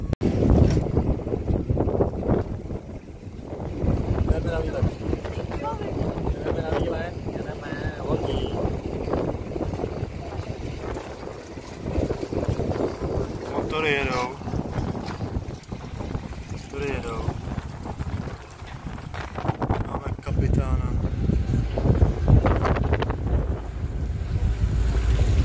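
Strong wind buffets the microphone on a boat trip to the island of Krk in Croatia, a loud continuous roar with rushing water and engine rumble beneath, while people talk now and then over it.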